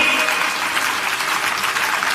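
Steady applause from a satsang audience at a devotional gathering, a continuous wash of clapping at moderate loudness with little talk.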